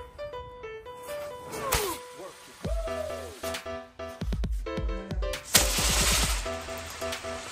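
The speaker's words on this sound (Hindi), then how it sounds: "जो पटाखा है बारूद है वो, तो ये चारों बार जल चुका है" A chakri firework lit with a match bursts into loud cracks and rapid bangs, with whistling, whooshing spins and crackling in between, nearby and mostly alone.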